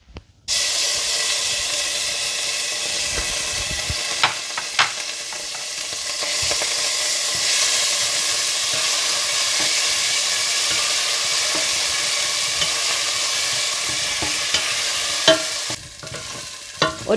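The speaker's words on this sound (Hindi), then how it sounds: "और फिर इसी तेल में अदरक लहसुन डालकर फ्राई कर लें।" Ginger and garlic fry in hot oil with a steady, loud sizzle and hiss, broken by occasional stirring clinks and scrapes. The sizzle lasts for most of the stretch and sounds close up.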